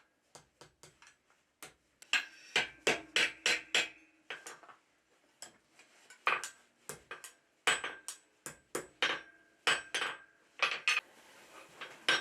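A hammer forges quarter-inch round steel bar into a small loop, striking in quick bursts of sharp metallic ringing blows with short pauses between groups, close and alone.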